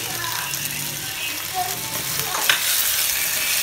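A tuber, tomato and turmeric being stirred in a frying pan: a loud, continuous sizzle with occasional scraping strokes from the spoon.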